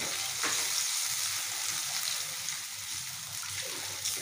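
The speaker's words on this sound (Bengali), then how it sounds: "এখন এই মশলাটাকে কমপক্ষে 5 থেকে 7 মিনিট আমি কষিয়ে নিব।" Masala with fried onions sizzling steadily as it is fried in a pan for fish pilaf, a close, even hiss with soft stirring scrapes throughout.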